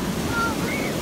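Ocean waves washing in on a California beach, a steady broadband surf wash filling the whole moment with some wind buffeting, and faint voices nearby.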